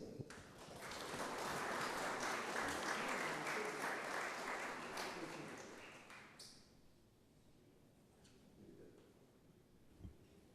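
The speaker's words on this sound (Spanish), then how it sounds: "le brindamos un fuerte aplauso para saludar la presencia del doctor Mauro" An audience at an international seminar on democracy, constitution and pluralism gives loud applause to welcome a speaker, Doctor Mauro Barberis. Dense clapping fills the first six seconds, then fades to a quiet room with a few faint sounds.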